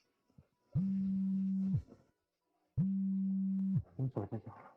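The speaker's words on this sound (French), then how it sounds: "Mon portable sonne." A mobile phone rings with two long, steady electronic tones, each lasting about a second and separated by a pause, heard alone and fairly close before a voice begins speaking.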